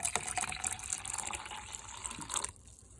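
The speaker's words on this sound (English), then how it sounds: "Now I'm going to add some water," Room-temperature water pours into a film developer mix in a continuous splashing stream that stops abruptly near the end, leaving faint residual dripping.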